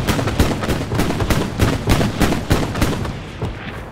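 Rapid gunfire crackles in a World War II game battle at Omaha, with dense, overlapping bursts and booms from a machine gun and other weapons firing steadily throughout, loud and close.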